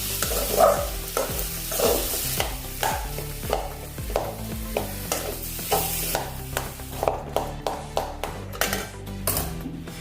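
Vegetables with boiled peas and fenugreek sizzle in a hot pan while a utensil stirs and scrapes in a steady rhythm, with close, repeated clinks and taps against the metal.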